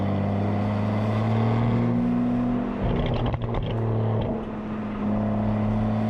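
An Aston Martin DBS Superleggera Volante driven on back roads, its engine droning loud and steady with a deep exhaust tone that swells and shifts as it revs, heard from inside the car.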